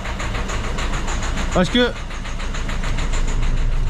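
A Citroën C4 engine idles steadily with an even, rhythmic mid-pitched running sound, close and continuous, as someone speaks briefly over it.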